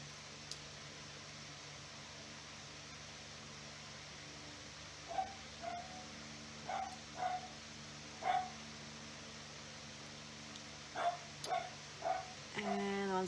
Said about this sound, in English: I am going to have to pause and go deal with my dog because he's not going to stop.